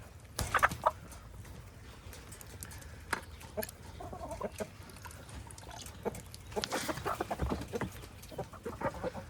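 Chickens cluck and murmur nearby in scattered bursts as they taste fermented feed, with soft pecking and scratching sounds between their calls.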